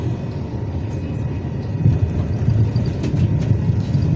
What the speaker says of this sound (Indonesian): Ini jalur kereta api KLIA Express